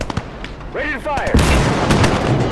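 Heavy gunfire in the World War II video game Call to Arms: Gates of Hell, with sharp booming shots and a rumbling blast close up, as a voice calls out over the battle.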